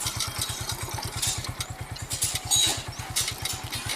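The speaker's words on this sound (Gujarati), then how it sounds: "બાઇક ત્રીજા ગિયરમાં ચાલી રહ્યું છે બાઇકનું સ્લો રસ્તે ચાલી રહ્યું છે" A motorcycle engine runs slowly in third gear along a road, with a pesticide sprayer rigged onto the bike. It gives a steady, close, rhythmic low thump throughout, with faint mechanical clatter above it.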